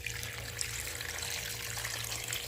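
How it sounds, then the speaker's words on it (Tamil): Water poured into a pot while making village-style trotter (leg) soup, a steady broadband splashing and trickling that runs unbroken for the whole stretch under a low background hum. "தண்ணியை ஊற்றி"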